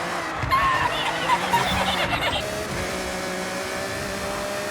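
In Forza Horizon 6, set in Japan, a racing car's engine hums steadily with rising and falling pitch as it revs, with a brief tire-squeal texture early on, heard fairly close at moderate volume.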